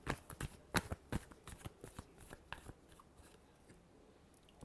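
A deck of tarot cards is shuffled close up with a burst of crisp riffling flicks that fade into a softer rustle, with no talk.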